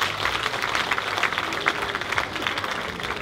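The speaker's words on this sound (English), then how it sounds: "let us give them an applause." Audience clapping for a couple marking a 35th wedding anniversary at a joint 60th birthday celebration, a steady, dense round of applause that lasts the whole stretch without pause.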